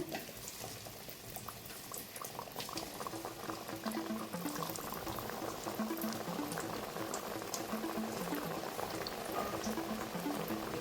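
Small discs of nippattu rice dough frying in hot oil, a dense, bubbling crackle that builds and holds steady, close and continuous with no talk.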